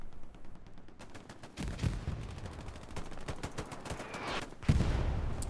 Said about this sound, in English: And the hill is again under fire.